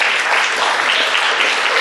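Hearty applause from an audience at a recognition banquet, a dense and steady wash of clapping that fills the room at close range with no break.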